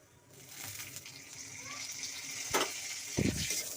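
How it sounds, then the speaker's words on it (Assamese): Whole panch phoron spices crackle and sizzle in hot oil, with a couple of louder clattering bursts near the end, close by. "এইখিনি তেলতে এতিয়া মই দি দিলোঁ পাঁচফোৰণ"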